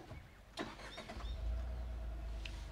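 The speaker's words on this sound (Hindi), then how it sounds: "सो ये चालू हो चुके हैं हमारी पिकअप ट्रक" A Tata Intra V20 Bi-Fuel CNG and petrol pickup truck is started with a key: a brief cranking whir, then the engine catches and settles into a steady, close idle.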